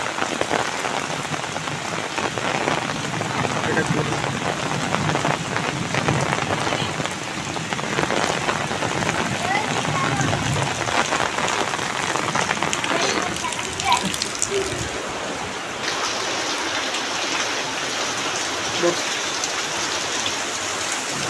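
Steady rain falls hard on surfaces outdoors, a dense continuous hiss of drops that runs throughout.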